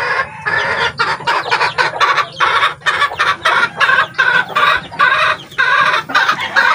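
Mother hens clucking continuously in a busy, overlapping chorus, loud and close, with short rhythmic calls and no talking.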